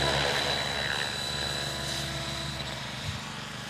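A small model helicopter's rotor whines steadily with a high-pitched motor tone at a 3D championship flying event, holding fairly constant and close for the whole stretch.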